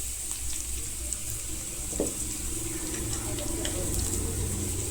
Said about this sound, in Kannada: ಈಗ ನಾನು ಇದನ್ನು ಫ್ರೈ ಮಾಡೋದಕ್ಕೆ ಹಾಕ್ತಾಯಿದ್ದೀನಿ